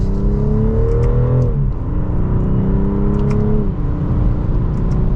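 A 2024 BMW 540i xDrive accelerates hard in sport mode in second gear, its engine note rising loud and steady, dipping briefly at each quick upshift before climbing again, heard from inside the cabin with no talking.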